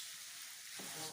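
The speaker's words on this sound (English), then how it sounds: "Stir fry." Indomie instant noodles stir-frying in a pan give a soft, steady sizzle with a faint scraping stir near the end, quiet and close.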